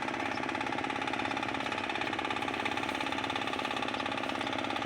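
A farm water pump engine runs steadily during field preparation for first cropping, a continuous mid-pitched drone with an even throbbing pulse and no voices.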